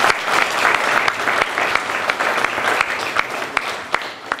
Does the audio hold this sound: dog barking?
no